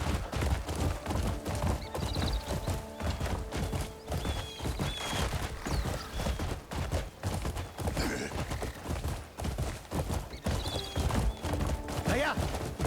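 A horse in the Crimson Desert video game gallops with rapid, continuous hoofbeats and neighs now and then, over busy in-game ambience.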